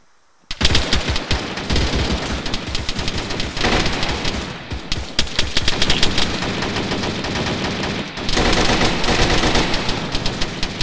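Sustained automatic gunfire in the military shooter game Arma 3, loud and dense, with long rattling bursts of shots overlapping almost continuously, broken by a couple of brief pauses.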